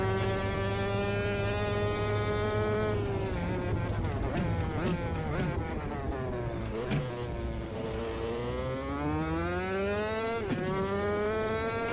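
An engine in a superkart, raced at Monaco in Automobilista 2, runs rough as it buzzes and rises and falls in pitch with throttle changes, loud and close throughout with an uneven, slightly stuttering tone.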